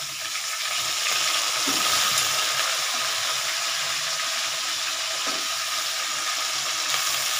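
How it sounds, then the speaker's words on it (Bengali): Potatoes frying in a pan give off a continuous, even sizzle that holds steady for about seven seconds, close and fairly loud, with no talking over it. "দেখো ভাজা করছি"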